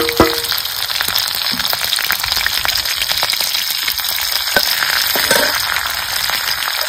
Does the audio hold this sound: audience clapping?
no